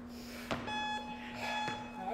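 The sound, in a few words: workout interval timer beeping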